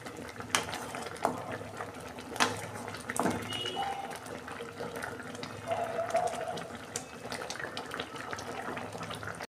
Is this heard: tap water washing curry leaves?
yes